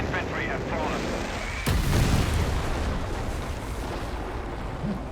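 A V1 rocket explosion in the strategy game Company of Heroes 3, a sudden loud boom with a rumbling decay that continues under ongoing battle noise and faint background talk.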